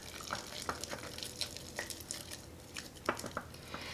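Spoon stirring sourdough starter in a jar, giving faint, close, sticky squishes and light clinks in an uneven rhythm.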